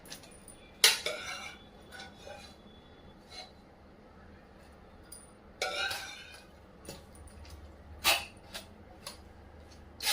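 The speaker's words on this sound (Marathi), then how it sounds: "अशा पद्धतीने पातेल्यावर चाळणी ठेवायची आणि व्यवस्थित अशा ह्या गाळून घ्यायच्या आहे" Cooked drumstick pods for a soup being strained through a sieve set over a pot: sparse metallic clinks and clatter ring out at intervals over a quiet background.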